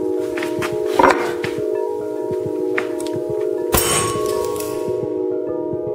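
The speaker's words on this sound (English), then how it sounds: "The explosion sent shards of glass flying." A sealed glass tube bursts open, with a sharp clang near one second and a louder bright crack of shattering glass around four seconds over steady background hum.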